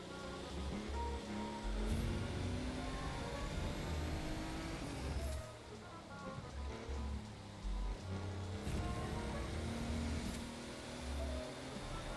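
Race car engines drone steadily in an open world racing game while racing against F1 cars, a continuous loud engine roar with pitch shifts from gear changes and a brief dip midway.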